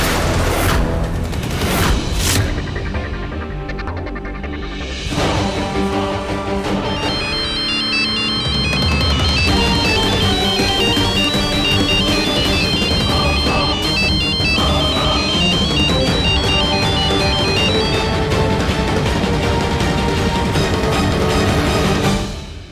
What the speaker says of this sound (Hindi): हमने जब इस फोन से कॉल किया तो लकी के फोन में रिंग हुआ